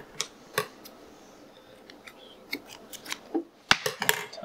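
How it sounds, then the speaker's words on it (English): Scissors snipping through sausage casing, a series of crisp, close cuts and clicks at an uneven rhythm, denser and louder toward the end. "Now we cut off the end."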